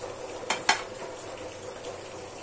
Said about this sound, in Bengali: এখন কেটে রাখা কাঁচা লঙ্কাগুলো দিয়ে দিয়েছি, হালকা নেড়ে ছেড়ে দেবো